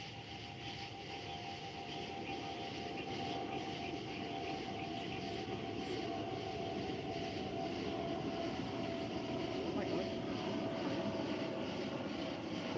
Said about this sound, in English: Hear an airplane now.